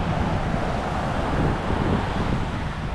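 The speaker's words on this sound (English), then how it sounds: "I think it's just a little too windy" Strong wind on an Oahu beach in Hawaii buffets the microphone continuously, a loud broadband rumble and roar with no voices.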